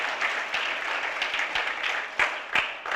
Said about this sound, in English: Let's give him a round of applause to Jalen White.